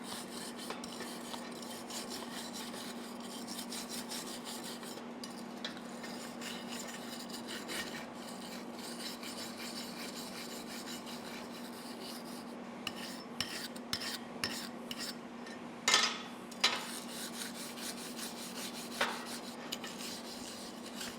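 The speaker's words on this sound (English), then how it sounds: "Just got a stainless steel wire brush here." A stainless steel wire brush scrubs metal parts clean before welding, a quiet, steady rasping rub with a few louder strokes near the end.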